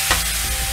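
Chopped onion hits hot oil in a pan for an egg curry, giving a sudden loud sizzle that settles into a steady, close frying hiss with no talking.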